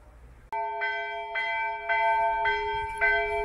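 Church bells ring near Lake Ohrid in North Macedonia, a sudden clear strike followed by a steady series of about five resonant, evenly spaced peals that sound fairly close and ring on between strokes.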